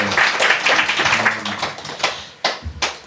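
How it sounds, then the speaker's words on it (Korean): Brief burst of clapping from a small lecture audience, with sharp scattered claps that quickly thin out. "여러분 박수 한번 주시겠어요?"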